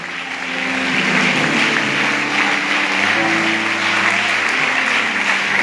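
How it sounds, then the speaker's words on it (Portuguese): A church congregation at a worship service breaks into sustained applause that swells within the first second and holds steady and dense throughout, with a faint low hum under the clapping. "Vamos aplaudir o Senhor"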